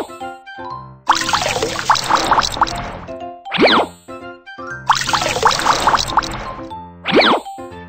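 Cartoon water wrung from freshly washed clothes: two bursts of splashy, dripping liquid sound, each ending in a quick rising squeak, set over light musical notes and no speech.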